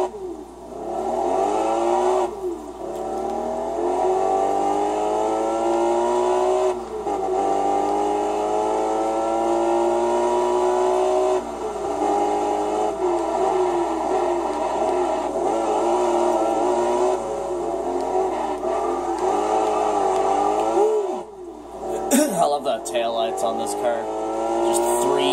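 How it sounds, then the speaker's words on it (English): Ford Mustang GTR concept car engine in Test Drive Unlimited, a steady revving drone that rises and shifts through gears, running continuously with someone talking over it throughout and a brief squeal near the end. "So this is the Ford Mustang GTR concept."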